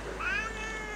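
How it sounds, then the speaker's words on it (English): A pet cat gives one short, rising meow, close and clear against a low steady background hum. "she meows all the time"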